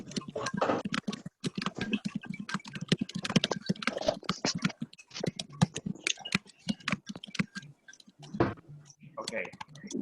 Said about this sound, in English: Somebody typing?